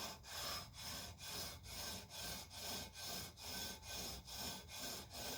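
Sanding bar leveling guitar frets with short back-and-forth strokes under light pressure, an even rhythmic rasp of about a dozen close strokes repeating steadily with no talk.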